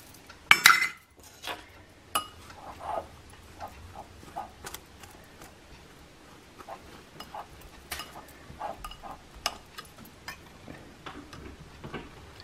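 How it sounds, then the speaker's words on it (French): Chickpea flour and sugar being mixed in a bowl for green tomato fritter batter, with a louder clink at the start, then a steady run of light scraping and tapping strokes, close and fairly quiet. "Je vais tout d'abord mélanger la farine de pois chiche"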